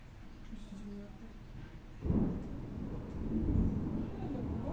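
Thunder after a powerful lightning strike during a strong summer thunderstorm, a low muffled boom that swells suddenly and rolls on at a distance, with faint voices in the background.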